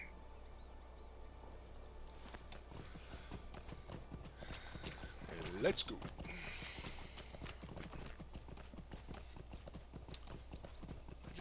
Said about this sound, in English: let's jump back on our horse again